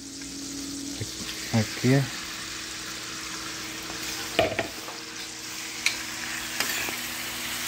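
Shrimp sizzle as they fry in butter with garlic in a pan for a shrimp and broccoli pasta, a steady crackle beneath brief stirring knocks and a short spoken word.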